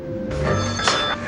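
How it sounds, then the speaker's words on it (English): A mobile phone rings briefly, a short bright electronic chime of two quick bursts, close and clear over a quiet room. "That's my phone."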